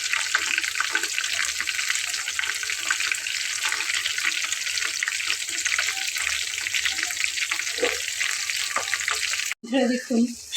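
Eggplant and potato pakoras fry in oil with a dense, steady crackling sizzle heard up close for about nine seconds, then it cuts off abruptly into a short, different burst of sound.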